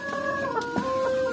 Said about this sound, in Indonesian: Oh, ini ayam kampung sama pelung.